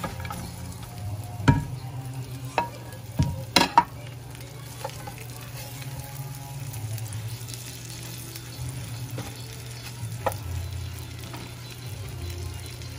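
Chicken pieces for teriyaki frying in a pan, a steady low sizzle with a few sharp clatters and scrapes near the start and scattered soft ticks throughout, close by and with no talking.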